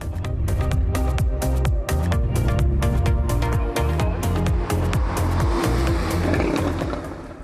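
A Porsche Boxster GTS convertible engine drives under load, a loud, continuous rumble that holds steady and near with rhythmic pulsing throughout, easing off at the very end.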